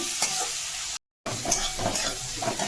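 Garlic and onion fry in oil over cumin, dried chili and bay leaf tempering, a close, dense sizzle with repeated stirring scrapes and a brief dropout in the sound, with no talk.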